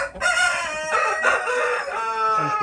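A rooster in a breeding pen with five Splash-colored hens gives a loud, sustained crow close by, the drawn-out call filling the whole moment with no talking.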